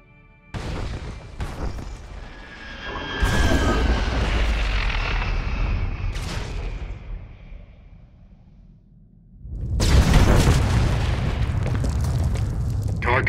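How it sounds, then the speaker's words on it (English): Massive detonation in Star Wars The Old Republic: a deep booming blast rolls out and fades, then a second loud explosive roar erupts and sustains, with ship engine rumble underneath. "Proceed with the detonation."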